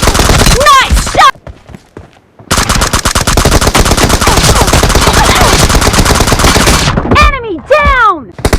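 Video game battle with loud, continuous automatic gunfire and bursts, broken by brief quieter gaps and whooshing, descending effects near the start and end.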